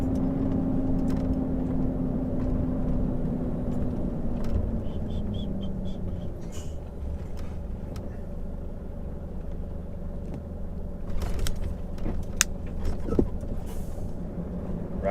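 A Volvo driving and changing gears, a low engine drone whose pitch falls as revs drop during a shift, then a steady hum with a few clicks and knocks later on.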